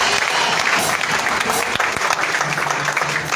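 A church congregation claps loudly and steadily throughout, a dense, close wash of applause with faint crowd murmur under it.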